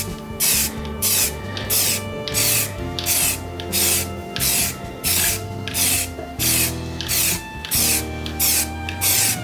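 Etch primer hisses from a spray can in a steady series of short, even bursts onto a Honda CB500 motorcycle tank, close and loud.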